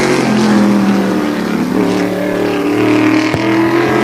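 A tour type modified race car laps Wall Stadium during qualifying, its engine roaring loud and steady with a droning, shifting pitch throughout, close by and without pause.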